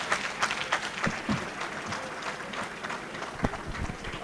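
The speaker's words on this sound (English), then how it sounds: "A round of applause for Peter Gregory Obi, but we call him Peter Obi." Audience applause at a memorial event, a short burst of scattered clapping with crowd noise and irregular sharp claps over about four seconds.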